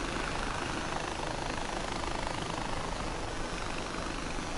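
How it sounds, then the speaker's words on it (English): Helicopter in the open-world shooter Far Cry 4 produces a steady, loud, broadband rotor roar that holds constant throughout, with no voices over it. "It's so cool that they have helicopters in this game, though."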